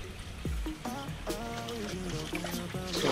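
Water trickles and splashes from a bowl as a koi fish is moved from a pond, with gentle drips and pours close by and some faint voice-like tones.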